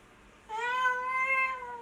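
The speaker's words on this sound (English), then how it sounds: "He's a cat." A house cat lets out one clear, drawn-out meow, close and fairly loud against a quiet indoor room, with no talking during the call.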